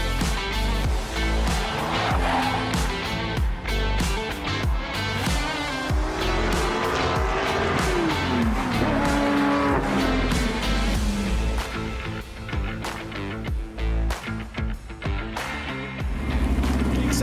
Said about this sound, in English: when those lights go out, these cars get loud, and we go motor racing.